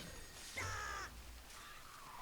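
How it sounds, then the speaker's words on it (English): A pigeon in the Rabbids Go Home video game gives a short, nasal call of roughly half a second, fairly close and clear, set over a low, steady hum of game background. "We got one pigeon mocking us."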